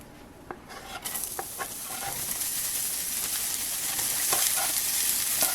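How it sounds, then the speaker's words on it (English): Shallots fry in a pan with a steady, close sizzle and hiss that builds after a moment, broken by occasional light stirring clicks. "And now I'm going to add the shallots to the pan."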